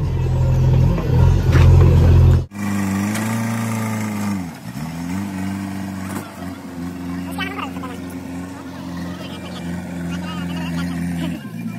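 A tractor engine runs loud and close while rubble from a demolished house is loaded into it, holding a steady drone broken by brief revs and dips in pitch.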